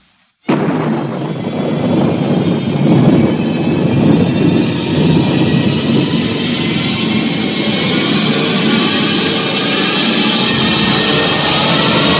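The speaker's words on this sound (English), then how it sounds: "Countdown for blast off." A rocket blast-off effect for a radio drama starts abruptly after a brief silence and becomes a huge, sustained roaring rumble. It stays loud and dense for over eleven seconds.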